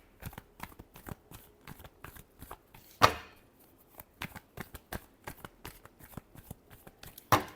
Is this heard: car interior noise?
no